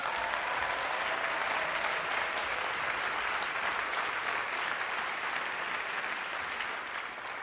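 Concert audience applauding the Orchestre National de France and conductor David Afkham, a dense, steady wash of clapping from a large hall crowd that holds at full strength throughout and fades only slightly at the end.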